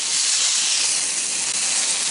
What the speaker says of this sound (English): hold it up against the side of the pan, and you want to sear the sides also